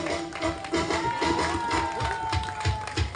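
Wedding guests clap for a couple feeding each other cake, a dense patter of applause rising and falling over music and crowd noise.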